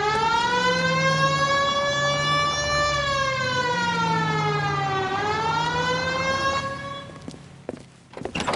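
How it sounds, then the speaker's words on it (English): A wailing police siren in a video game rises and falls steadily, loud and close, fading out near the end with a few thumps. "Hit the siren."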